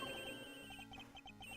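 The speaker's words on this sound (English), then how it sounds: "That's a cell phone." A cell phone rings in the video game Ace Attorney Investigations, a repeating electronic ringtone of short, evenly spaced chirps under a faint steady musical background, quiet and without voices.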